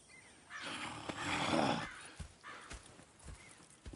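Horses in Red Dead Redemption II give a loud neigh and whinny in the first couple of seconds, followed by sparse hoof clops and snorts at close range, with no talk.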